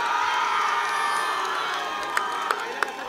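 Supporters at a tennis-ball cricket semi-final cheer and whoop together in a steady, sustained crowd roar, with a few sharp shouts breaking through near the end.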